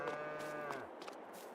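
Cattle low in Farming Simulator 22, a long sustained game-engine moo layered with a second bellow, steady and fairly quiet, with no talking.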